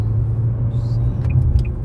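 A white Yukon SUV with California exempt plates passes nearby, a steady low road rumble holding for the whole moment, with faint higher chirps near the end and no voices.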